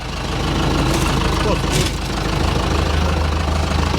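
A restored Ursus C-360 tractor engine runs without its air filter, a loud, close, continuous rumbling chug that holds steady throughout.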